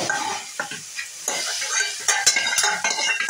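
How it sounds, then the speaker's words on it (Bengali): Tadka tempering poured into curry sizzles sharply, then a spoon stirs and scrapes against the pot with irregular clinks and rustles over a continuous frying hiss, close and fairly loud. "তরকাটাকে আমি দিয়ে দিচ্ছি এবার।"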